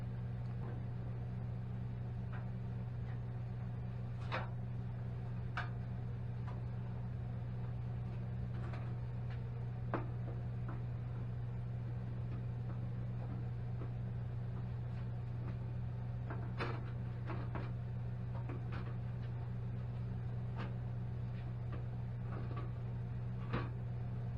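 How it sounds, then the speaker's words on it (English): A room air conditioner runs in a warm workshop during a 1966 Mustang door skin repair. It gives a steady, fairly loud low hum throughout, with scattered small clicks and knocks of shop activity over it. "I apologize for the air conditioner running over there"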